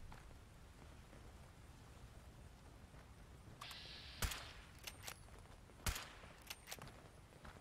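In Fallout 76, a sneak-attack critical headshot lands on a ghoul. A few sharp, distinct gunshot cracks and smaller impacts rise out of faint hissing background noise.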